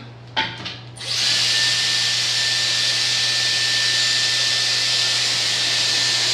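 A couple of knocks, then a Dyson vacuum cleaner starts and runs with a loud, steady high-pitched whine close by.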